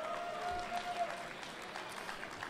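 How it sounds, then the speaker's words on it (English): A Libertarian Party convention crowd applauds faintly in a large hall, a soft, steady patter of distant clapping with a brief tone and some voices mixed in. "please give him a round of applause."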